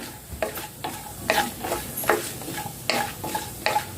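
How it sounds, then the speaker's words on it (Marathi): Dry fruits fry in ghee for moong dal halwa while a spatula stirs them, rhythmic scraping strokes roughly every half second over a soft, steady sizzle, close and clear. "ते ड्रायफ्रुट्स आपल्याला थोडेसे तळवून घ्यायचे आहे"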